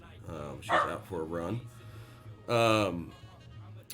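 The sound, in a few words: dog barking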